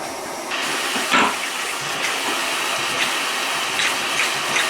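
A hand-made model steam engine runs steadily, giving a continuous hissing, rushing sound with a few brief louder bursts of steam, fairly close and with no talking.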